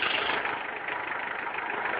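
Engine idling steadily, a continuous close, loud mechanical hum with no talk over it.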